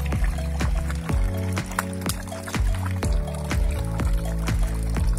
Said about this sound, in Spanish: Mira esta también como bebe agua.